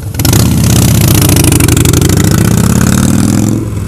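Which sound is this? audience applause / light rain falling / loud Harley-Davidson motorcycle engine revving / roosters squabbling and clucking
loud Harley-Davidson motorcycle engine revving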